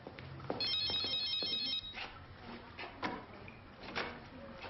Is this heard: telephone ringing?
yes